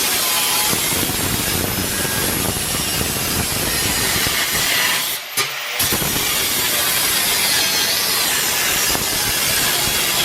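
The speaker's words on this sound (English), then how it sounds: "So we'll cut it down there and trim that off there." Wood is hand-sawn to trim a piece for a floor repair, giving a loud, steady rasping back-and-forth close by. The strokes break off briefly near the middle and then resume.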